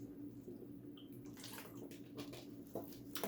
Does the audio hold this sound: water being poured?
yes